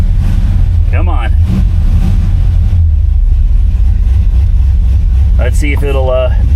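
A Chevy Bel Air engine idles after a restart in a cold shop, a steady low rumble running throughout while someone talks briefly near the start and again near the end.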